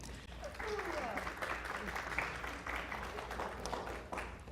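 Applause from a seated audience at a panel on Jewish wedding trends, a soft, continuous patter of clapping heard from a distance, with some talking mixed in.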